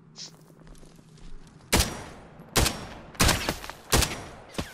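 Gunfire crackles in a crossfire in the video game Direct Contact, set in Afghanistan: four loud, sharp bursts of shots at roughly even intervals, with quieter rustling between them.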